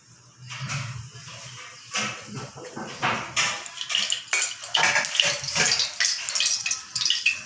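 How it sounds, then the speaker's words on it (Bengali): Oil poured into a kadai for a bhog-style cabbage curry is heard close up as liquid pouring amid clattering metal cookware and utensil knocks, with no talking. "তেল দিয়ে দিচ্ছি কড়াইয়ে আমি"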